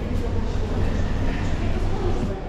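Train at a railway station, heard as a steady, loud low rumble and hum of rolling stock and platform noise throughout, with faint chatter mixed in.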